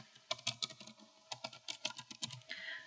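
Quiet, close keystrokes tap out text on a computer keyboard in an irregular run of about twenty clicks, pausing briefly near the one-second mark before continuing.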